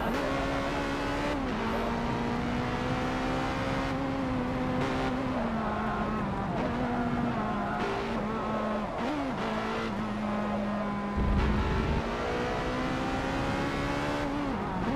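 Race cars in an Xbox One X racing game drone steadily with rising and falling engine pitch as they accelerate, shift and pass one another, loud and continuous throughout with brief swells, and no talking.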